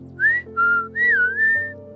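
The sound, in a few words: whistled imitation of eastern meadowlark song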